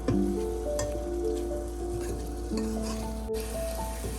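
Potatoes with spices frying in a pan for a Punjabi aloo gajar matar sabzi, a soft steady sizzle with occasional stirring scrapes, close and fairly quiet, with no talking.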